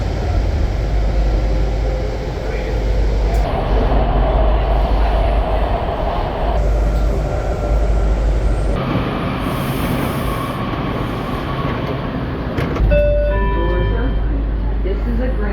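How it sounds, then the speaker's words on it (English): A Green Line metro train runs underground toward Branch Avenue, giving a loud, steady rumble and rush of wheels and motors with a faint high whine, while voices and an onboard announcement are heard over it. "This is a Green Line train to Branch Avenue"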